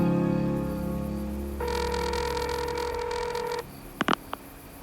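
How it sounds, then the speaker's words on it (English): A telephone number is dialed, heard as steady tones over a humming line that stop and give way to a few short, sharp clicks near the end. "the man in the orange hat dials a number"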